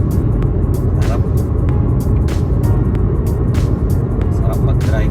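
Steady low rumble of a car driving along Highway 97 near Kelowna, British Columbia, on a sunny summer day, with constant road and engine noise and a voice talking over it.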